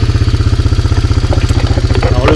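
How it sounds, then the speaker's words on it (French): Quad bike with a variable-speed (vario) transmission idling nearby on a farm, a steady rapid low throb with mechanical clatter, a few brief knocks and rattles toward the end. "Alors le quad c'est un vario."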